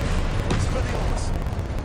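A spell cast in the Hogwarts Legacy video game lands as a loud, dense magical burst and blast, booming and crackling close up through the whole short moment.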